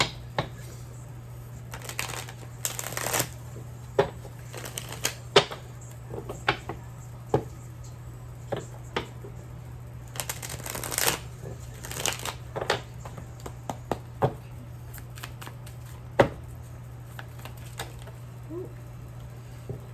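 Tarot cards shuffled and pulled from a deck for a reading, giving repeated soft riffling and crisp card flicks in irregular bursts, close and fairly quiet over a steady low hum, with no talking.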